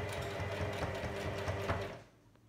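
A sewing machine stitches two fabric pieces together for a face mask, a fast steady rattle of needle strokes that runs close and clear before stopping abruptly near the end, leaving quiet.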